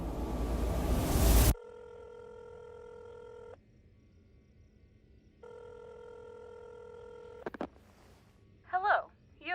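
Touch-tone telephone keypad dialing a number: two long steady multi-tone DTMF bursts separated by a pause, clear and close, followed by a couple of short warbling tones, after a brief loud noise at the start.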